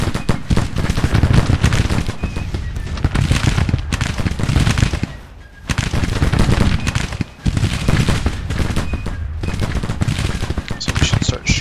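American Civil War battle in the game Grand Tactician: The Civil War, with dense, continuous rattling musket volleys and crackling gunfire, loud and close with brief lulls, a voice talking intermittently over it.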